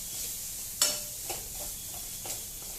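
Egg fried rice being stirred and tossed in a hot pan, a few close scraping strokes with soft sizzling beneath, the sharpest scrape early and lighter ones following at irregular intervals.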